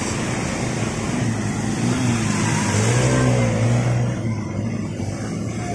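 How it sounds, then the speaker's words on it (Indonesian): A bus drives through flood water on a city street in Binjai, its engine a steady rumble with a rising tone as it pushes a wash of water and waves, close and loud throughout. "Wow, ada bus."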